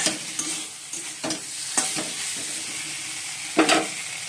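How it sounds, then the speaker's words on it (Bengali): A curry broth simmers in a pot on a gas stove, sizzling with a steady hiss, broken by a few brief scraping stirs, close by and with no voices. "ওই ঝোলটা বসিয়ে দিয়েছি"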